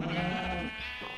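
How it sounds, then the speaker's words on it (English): Minecraft sheep bleating in the video game, a single near, wavering bleat that fills the short moment on its own with no talking. "Sheep."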